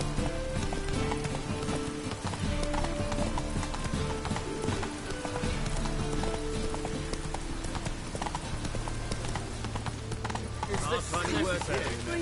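Roach's hooves clip-clopping at a steady trot in The Witcher 3: Wild Hunt, continuous rhythmic hoofbeats over a dense bed of game music and ambience, with a louder flurry toward the end.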